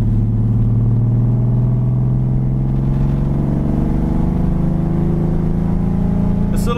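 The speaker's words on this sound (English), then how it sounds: "This little six-cylinder sounds good with the dual exhaust and the headers." A six-cylinder Ford Mustang engine with headers and dual exhaust drones steadily and loudly, a low throaty rumble that rises slightly in pitch as it accelerates.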